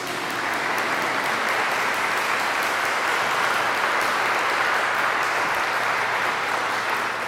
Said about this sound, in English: the mayor of our city, Andrew Gunther, so please clap for him.